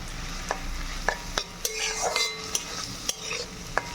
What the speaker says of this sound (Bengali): এটাও হালকা করে ভেজে নেব, ডাল সমেত লাউ